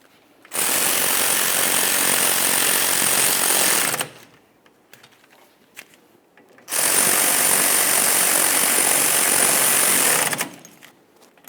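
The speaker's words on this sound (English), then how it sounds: "once you have them started in, snug them up and torque them to 20 foot-pounds" An impact or power tool drives the caliper slider mounting bolts on a 2004-2008 Ford F-150 rear brake in two long, loud bursts of steady buzzing hammering, each lasting about three and a half seconds, with a quiet gap between them.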